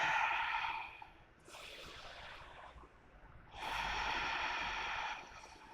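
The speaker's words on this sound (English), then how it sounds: "Full, slow, steady breath." Slow, steady breaths during a yoga power vinyasa session, close and audible: a long exhale, a pause, a lighter breath, then another long full exhale, heard alone without talk.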